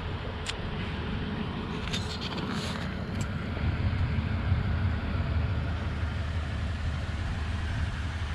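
2019 Toyota Tundra TRD Pro pickup in VooDoo Blue idling outdoors, a steady low engine rumble heard nearby under wind noise, with a few faint clicks.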